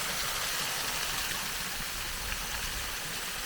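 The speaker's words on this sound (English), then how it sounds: "this is Terra Cotta Waterfalls" Terra Cotta Waterfalls near the Bruce Peninsula pour in a steady, broadband rush that holds constant and close throughout, with no voices over it.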